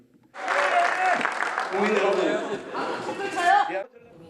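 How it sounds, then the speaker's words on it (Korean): Lawmakers in a parliamentary chamber clap and jeer at once, a dense burst of applause mixed with booing and shouting voices that swells for several seconds and then cuts off. "민주당 의원들은 박수로, 국민의힘 의원들은 야유로 맞섰습니다."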